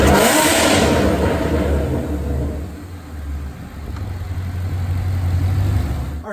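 A supercharged 2014 Ford Mustang GT with an Edelbrock E-Force supercharger on a dyno, its engine rising loudly in a hard rev before easing down and settling into a deep, steady drone.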